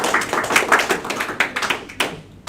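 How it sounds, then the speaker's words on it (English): Small group of fans clapping for a football club groundsman at a forum, scattered uneven hand claps fading toward the end, close and unaccompanied by speech. "A round of applause for Ben,"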